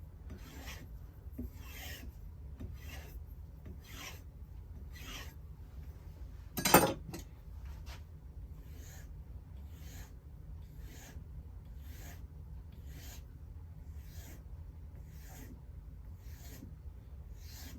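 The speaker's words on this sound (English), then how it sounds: "This is just polishing up that edge and what little burr there, realigning it." Knife edge stroked across a board to polish off the burr, making soft, even rasping strokes about once a second, faint and close, with one brief sharper scrape partway through and no talking.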